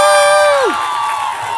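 Crowd cheering and whooping with scattered clapping at a Christmas gala, loud and sustained, with a sliding tone fading out at the start and voices shouting in the mix.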